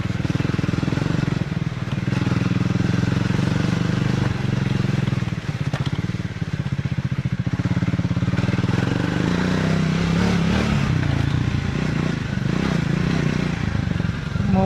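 A Triumph Speed 400 motorcycle ridden off-road, its engine droning steadily up close with crackling and clattering over the rough ground throughout.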